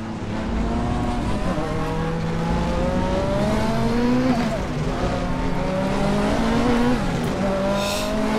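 A Nissan Silvia Turbo Group 5 race car at full throttle at Zolder in the R3E racing game, engine droning steadily and loudly with rising pitch sweeps through the gears, continuous and alone.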